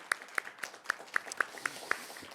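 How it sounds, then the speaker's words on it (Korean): A church congregation claps in praise during a Korean Baptist Wednesday worship service, a faint, steady run of about eight evenly spaced claps under quiet room noise. "우리 하나님께 큰 영광의 박수 올려드리겠습니다"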